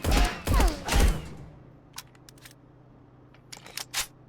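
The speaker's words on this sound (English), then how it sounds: "hip firing with recoil control on burst" Three quick bursts of gunfire from the hip in the video game Marauders, loud and close in the opening second, followed by quieter clicks and mechanical taps.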